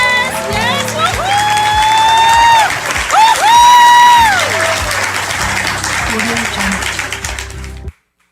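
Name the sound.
audience applause and cheering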